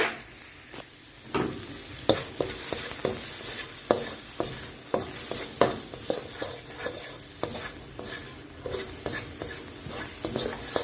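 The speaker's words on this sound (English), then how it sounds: "we'll just be sauteing the onions until they're a bit translucent" Onions and garlic sauté in a pan, a steady sizzle broken by frequent sharp scrapes and knocks of a spoon stirring, close and fairly loud with no talk.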